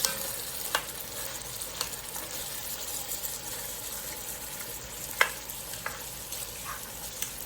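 Onions softening in butter in a pan for sausage stew, giving a faint, steady sizzle with occasional light clicks of a utensil.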